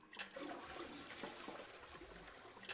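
A toilet flush from the video game 999 rushes with dense, close water noise in a short, steady burst, heard alone.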